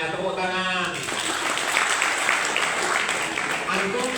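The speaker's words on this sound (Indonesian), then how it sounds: "Tepuk tangan." Audience applause at a book-writing seminar: after a brief spoken moment, a dense, steady clatter of many hands clapping fills the room and holds for several seconds.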